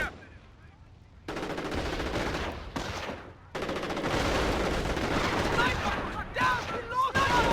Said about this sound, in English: Heavy MG fire.